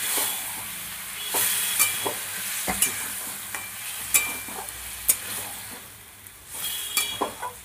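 Warm water poured into green jackfruit curry frying in fat sets off a hissing sizzle, broken by sharp stirring scrapes and bursts of steam, close and without speech.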